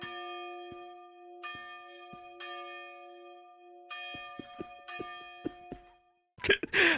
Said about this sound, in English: I don't remember if the church bells keep on going.